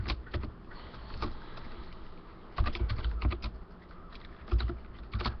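A license code entered on a computer keyboard, heard as close bursts of rapid key clicks separated by brief pauses, with heavier thumps among the keystrokes.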